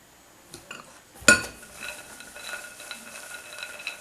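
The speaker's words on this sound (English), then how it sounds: "You'll be shaking it this way." Groundnuts coated with a dry layer and then a wet mixture are shaken inside a container, giving a sharp knock followed by a steady, soft rattling and shuffling texture.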